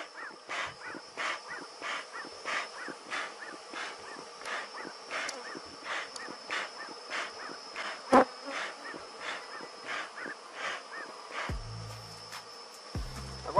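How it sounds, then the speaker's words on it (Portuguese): An aggressive honeybee swarm is worked with smoke: a constant buzz runs under regular rhythmic puffs or bursts. A sharp snap comes midway and low knocks come at the end. "Vou usar bastante fumaça, gente, porque esse enxame é um pouco agressivo."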